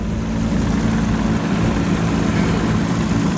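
A 336k-mile BMW E34 M5 engine idling after sitting eight months in flooded woods, a steady loud droning rumble with a low throbbing hum, close and continuous, no talk.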